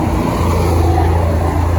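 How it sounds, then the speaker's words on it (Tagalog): Road traffic with cars and jeeps on a busy, crowded street fills the air as a loud, steady roar. There are no distinct pass-bys and no voices. "So still guys, traffic"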